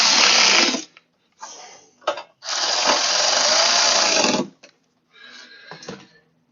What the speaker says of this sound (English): because these are just screwing into sheet metal.